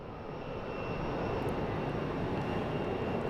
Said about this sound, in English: Got a JetBlue down here.